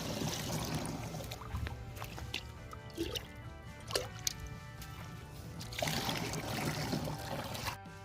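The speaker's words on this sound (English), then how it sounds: "now it's time to fill this sprayer with water" Water pours into a sprayer tank with a steady splashing, gurgling flow and occasional drips and clinks, fairly close and continuous throughout, with no voices.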